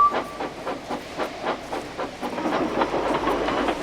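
Steam locomotive Edward puffing away from a station after the guard's whistle, steady rhythmic chuffs with hiss, close and moderately loud, picking up pace with no talking.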